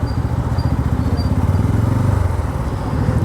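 A 2024 Bajaj Pulsar N250 V2 motorcycle engine drones steadily while riding, a low, continuous throbbing rumble with even pulsing and no break.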